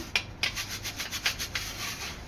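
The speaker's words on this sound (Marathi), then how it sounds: "आता हा आपला पीठ आहे ना हा पुन्हा चाळून घ्यायचा आहे" Wheat flour for chakli is sifted through a sieve again, producing soft rhythmic rubbing and shaking strokes, about seven brushing pulses in quick succession, close and fairly quiet, with no voices.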